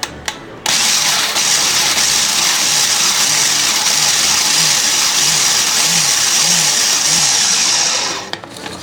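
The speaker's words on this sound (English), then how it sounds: "Let's put the lid on and pulse it." A food processor blends brown sugar, orange zest and crumbs into a coarse mixture. Its motor whirs loud and steady for about eight seconds, then cuts off, with no talking.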